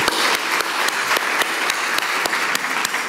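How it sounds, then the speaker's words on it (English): An audience at a childhood conference on children's anxiety claps for the children and young people who spoke, a dense, loud, steady round of many hands clapping throughout. "can we give them another clap?"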